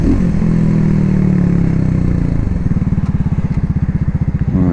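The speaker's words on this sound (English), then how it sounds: "Do love the sound of this bike." A Cougar Vitacci XMT 250 motorcycle engine runs close by, a smooth rising hum that shifts into a choppy, pulsing idle with clattery puffs near the end.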